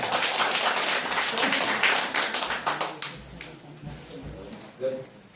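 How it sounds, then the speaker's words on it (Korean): Audience clapping at a lecture hall seminar: a dense burst of applause from a crowd for a few seconds, thinning into scattered individual claps as a voice begins speaking over the tail end. "이분을 위해서 박수"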